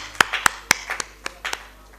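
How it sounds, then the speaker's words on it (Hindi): At a poetry gathering, the Mahakavi Pandit Devi Prasad Rahi award ceremony, a few sharp, separate hand claps ring out close by, about eight of them at an uneven pace. No full applause builds. "बहुत जोरदार तालियां एक बार"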